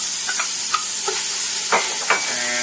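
Lemongrass, ginger and garlic sizzle in a hot pot while being stirred for a coconut curry crab dish, a steady frying hiss broken by several brief scraping stirs, close and clear.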